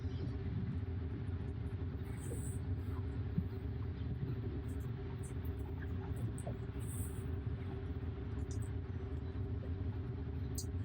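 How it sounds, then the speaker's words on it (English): Steady low road rumble and hum inside a car driving itself on Full Self-Driving, with an even drone throughout and no talking. "But as you can see, the car's driving really well."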